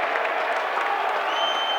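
A rugby league crowd at an Oldham versus Halifax match roars and applauds in a dense, steady wash of cheering and clapping, loud and sustained throughout.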